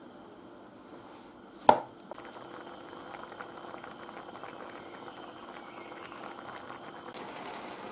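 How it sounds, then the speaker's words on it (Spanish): Fideuá broth at a rolling boil over high heat, a steady soft bubbling and crackling after a single sharp clack near the start, close and fairly quiet with no talk. "cuando empiece a hervir, 10 minutos con el fuego fuerte"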